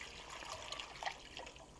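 Water is poured into a pot over cut pumpkin pieces being prepared for canning, a quiet close trickle and splash with small gurgling bursts, faint and short.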